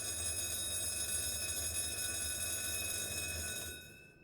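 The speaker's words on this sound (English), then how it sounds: "You have to give that buzzer time to do its thing" A bright electronic buzzer tone sounds steadily for a few seconds, then cuts off, fairly faint and alone.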